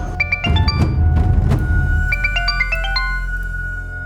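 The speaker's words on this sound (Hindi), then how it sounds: "सर, उसने मेरा फ़ोन कट किया तो मैंने उसे दोबारा फ़ोन किया।" A phone ringtone plays loud and close, a repeating melodic chime pattern in two bursts with a thump between, as a repeat call comes in during an indoor crime drama scene.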